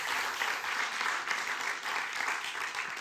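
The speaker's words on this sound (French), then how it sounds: "Merci infiniment pour ces applaudissements" Audience applause at a poetry reading in a Paris poetry venue, a dense sustained wash of many hands clapping at steady volume for the full few seconds, with no talk over it.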